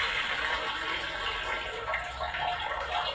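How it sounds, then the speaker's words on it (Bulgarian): Recorded toilet flush played back, a steady rushing swirl of water with continuous hiss, moderately loud and close, no speech over it. "Чува са водата на туалетната"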